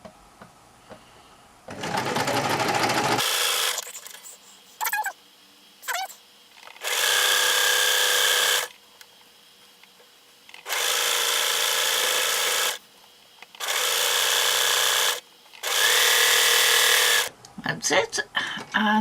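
A sewing machine stitches a quilt patch in several rapid, loud bursts of a few seconds each, separated by pauses where someone briefly talks and handles the fabric.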